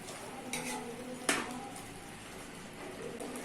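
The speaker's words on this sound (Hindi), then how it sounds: "जो बचा हुआ हाफ ग्लास वाटर था वो अभी वापस ऐड करेंगे इसमें और अच्छे से चलाएंगे" A spoon clinks and scrapes against a pot while homemade chicken curry is stirred after half a glass of water is added, two or three sharp metallic knocks over a soft cooking hiss.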